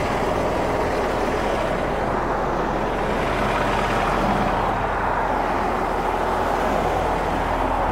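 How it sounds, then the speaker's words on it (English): Cars and other vehicles roll past on a road in a steady, loud wash of traffic noise with no clear gaps, heard up close without any talking. "Bunch of cars coming here."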